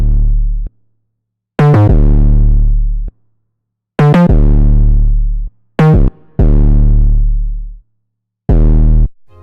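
Distorted bass from Logic Pro X run through Waves Berserk amp distortion plays four long, heavy notes with gritty harmonics, separated by silent gaps, loud and isolated with no other instruments.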